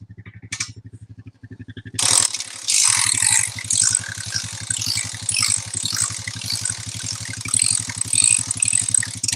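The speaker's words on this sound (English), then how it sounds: "Crank this bale up" A ratchet clicks and rattles in a fast, steady rhythm while cranking up a bale of spring-cut hay on a farm, loud and close after a brief quieter start.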